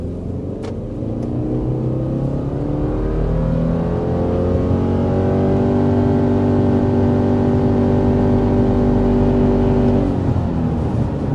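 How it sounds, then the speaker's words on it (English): A 2025 Subaru Forester accelerating up to 60 mph, a steady engine drone with harmonics climbing in pitch through upshifts over several seconds, loud and continuous with road rumble beneath, then easing off near the end. "there is our acceleration up to 60 miles per hour with the 2025 Subaru Forester"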